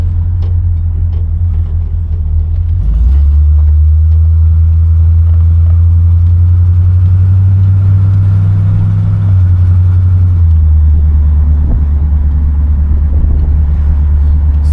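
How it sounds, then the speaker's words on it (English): A 1967 Pontiac Bonneville engine rumbles steadily while driving, a loud, close, deep drone that swells as the car accelerates after a few seconds and eases back later. "Motor sounds nice and strong."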